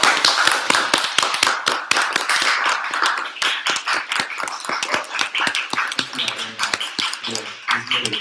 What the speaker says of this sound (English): Well, let's give John Michael another round of applause.